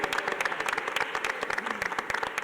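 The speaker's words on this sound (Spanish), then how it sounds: "pido un fuerte aplauso" At a public event, a room full of people applaud with rhythmic, distinct hand claps, moderately loud and fairly close, steady throughout.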